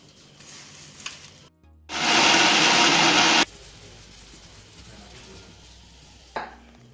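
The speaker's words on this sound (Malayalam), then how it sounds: "ഇതെല്ലാം നമ്മൾ മിക്സിയിൽ നന്നായിട്ട് അരച്ചെടുക്കണം" A kitchen mixer grinder whirs loudly for about a second and a half, grinding herbal ingredients into a thick paste for homemade traditional oil, framed by quieter room noise and a brief click near the end.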